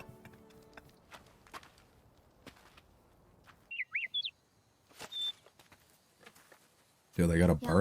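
Bird chirping in the anime Frieren: a short burst of high tweets in the middle, set among soft footsteps, light ticks and a louder noise at the end.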